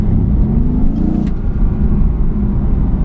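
Mercedes-AMG GT S engine in sport mode, a steady loud low drone with a slight swell around the first second and a half, continuous throughout with no talking.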